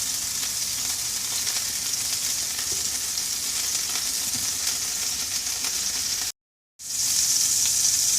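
Venison steak sizzles loudly and steadily in a hot pan, a dense continuous hiss that cuts out briefly for a moment before resuming.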